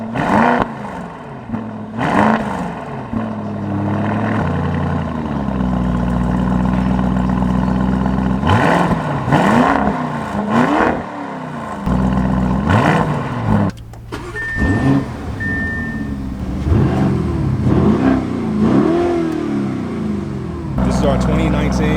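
A 2019 Lamborghini Urus engine revs repeatedly in rising and falling sweeps at close range. Idle stretches sit between the blips, with a brief whirring electric tone partway through and a person talking over parts of it.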